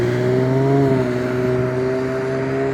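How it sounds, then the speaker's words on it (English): A car engine running steadily at high revs, a loud continuous droning roar with a slight rise and dip in pitch, close by. "they rev their engines a couple of times before they come out"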